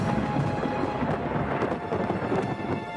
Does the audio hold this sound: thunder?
yes